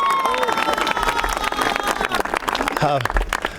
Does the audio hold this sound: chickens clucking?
no